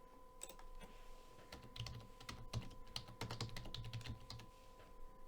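Fingers type on a computer keyboard at a close, quiet level, giving an irregular run of soft clicks and key taps with a few quicker bursts, ending with a save shortcut, over a faint steady background hum and no speech.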